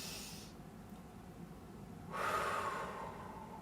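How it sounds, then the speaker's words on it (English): A person's deep breathing, a soft nasal inhale followed by a longer, louder exhale blown out through the mouth, close and alone in a quiet room. "I am breathing in through my nose and breathing out through my mouth"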